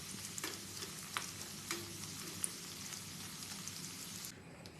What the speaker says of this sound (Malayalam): ഏത്തക്കായെല്ലാം ഫ്രൈ ചെയ്തെടുക്കാം.